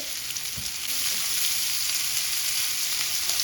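Sausage frying in a hot pan, a steady dense sizzle and crackle that stays close and even throughout, with no voices over it.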